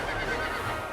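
A horse neighs loudly and close by, a brief rough whinny that fills the whole moment, with no speech over it.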